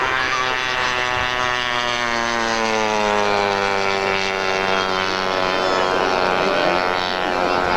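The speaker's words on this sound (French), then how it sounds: "Vraiment, c'est une très belle maquette. Ce passage plein feu." A scale model of a T6 propeller airplane roars past at full throttle during a 1981 model flying meet in Yverdon, a loud sustained engine drone whose pitch slides down as it passes close by.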